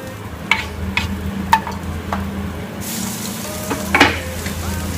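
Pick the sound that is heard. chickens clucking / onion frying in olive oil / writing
onion frying in olive oil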